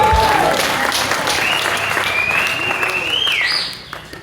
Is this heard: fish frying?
no